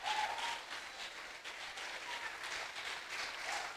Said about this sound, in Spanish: Así que aplauda a Dios.